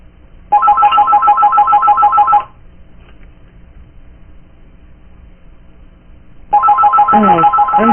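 A new mobile phone's ringtone sounds in two loud electronic bursts, about two seconds and then another starting near the end, separated by a quiet stretch of low room noise.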